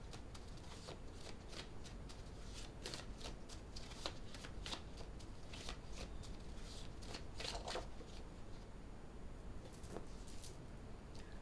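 Tarot cards being shuffled continuously up close, a steady papery riffling with repeated crisp flicks and slaps throughout, no talking.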